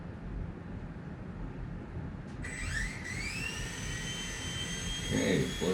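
A Blade 70 S micro RC helicopter spins up its rotor blades, a thin rising whine that begins partway through and holds steady over a constant background hiss, close and moderately loud, no talk.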